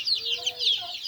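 A flock of young chicks and chickens at a chick seller's place peep and cluck continuously, with shrill, overlapping high chirps close by and no talk.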